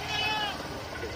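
A goat bleats in a short, wavering call at close range, with people talking in the background during a comedy video shoot.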